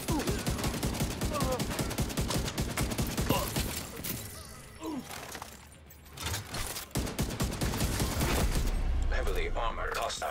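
Rapid bursts of gunfire from a shooter video game blast almost continuously, with a brief lull midway, under a voice talking over the action.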